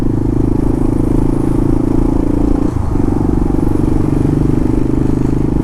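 Motorcycle riding through New York City streets, a loud continuous engine drone with steady low rumble and a brief dip in pitch midway, close and unbroken, no voices.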